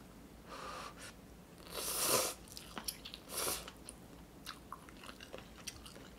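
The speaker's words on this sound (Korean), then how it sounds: "나 컵라면 진짜 오랜만에 먹어" Someone eating instant cup noodles at home, with soft slurping, biting and chewing sounds in short close bursts, a few louder moments among quieter scattered clicks.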